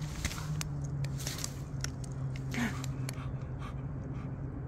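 A happy dog outdoors at an RV, panting quietly and moving about with soft footsteps, licks and rustles, close but faint, with no one talking.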